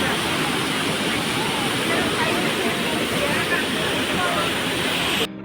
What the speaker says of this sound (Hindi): ये एक नेचुरल वाटरफॉल है and it has quite a refreshing atmosphere